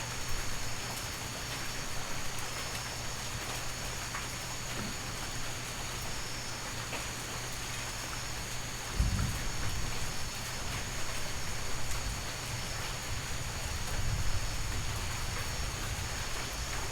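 Steady rainforest rain hisses evenly throughout, with a constant low hum underneath and a brief low rumble near the middle.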